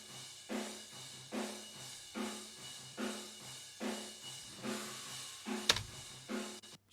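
Reverby drums captured by Rode NT1 room mics in a tiled toilet: a steady groove of kick and snare hits, each smeared by a long bright wash of room echo, with one sharp louder accent near the end.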